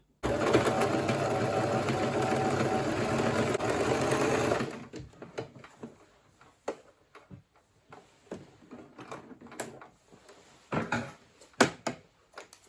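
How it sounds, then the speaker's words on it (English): A sewing machine runs steadily, stitching the twice-folded arm opening of a simple kaftan, then stops, leaving scattered soft clicks and handling taps. "The next thing right now is to sew the arm opening area."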